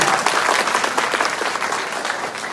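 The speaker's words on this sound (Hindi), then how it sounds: "तालियां कमजोर है भाई।" Steady applause from a seated crowd at a live comedy show, a dense, uniform patter of many hands at moderate level with no gaps.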